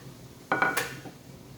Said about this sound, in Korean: 접시에 담아보겠습니다.